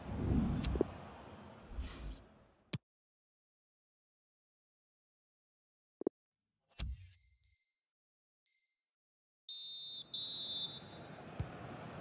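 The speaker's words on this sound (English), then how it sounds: "Well, that's the half-time whistle." Referee's whistle in the FIFA 20 football video game, heard as a few sharp, separate whistle blasts across a quiet gap, with crowd and stadium noise before and after.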